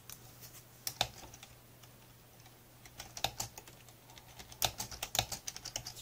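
Keys on a computer keyboard are tapped in quiet, scattered clicks, sparse at first and then quicker bursts of keystrokes, close by, with no speech.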